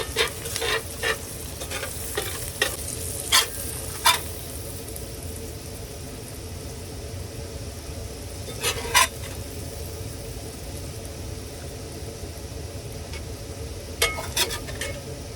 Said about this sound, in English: Steak and eggs. Mmm. All on the hot plate.